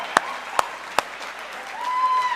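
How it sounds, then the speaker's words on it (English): A conference audience at a Future of Work dialogue gives faint, distant applause as people are called to the stage, with three sharp, evenly spaced claps standing out close by over the soft wash. "Can you please give them a warm round of applause?"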